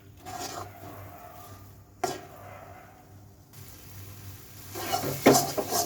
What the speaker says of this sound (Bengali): এটা এখন সুন্দর করে এখানে নাড়াচাড়া করে ভেজে নিব।